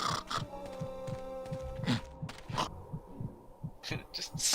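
Heartbeat of an exposed heart in the Grim Fandango adventure game, a steady rhythmic series of soft low thumps repeating about twice a second under a faint hum.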